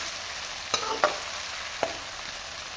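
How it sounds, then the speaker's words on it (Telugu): Chopped green chili, onion and tomato fry in a pan with a soft steady sizzle, broken by a few sharp clicks of a spoon against the pan. "ఇప్పుడు దీంట్లోనే సన్నగా కట్ చేసుకున్న టమాటా ముక్కలు కూడా వేసుకుంటాం. ఈ మూడింటిని మంచిగా వేయించుకోవాలి."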